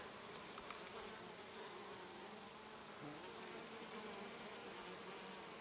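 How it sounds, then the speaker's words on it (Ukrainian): Faint, continuous honeybee buzzing among mint plants, a steady low drone with a slight hum that stays constant without pauses. "Здається, бджола теж впала від запаху."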